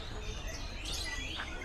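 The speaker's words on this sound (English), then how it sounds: "I'm going to turn the microphone off so you can hear all the birds." Songbirds sing at an outdoor bird-singing competition in Indonesia, with thin, high chirps and warbles rising over a steady wash of crowd and street noise, with no close speech.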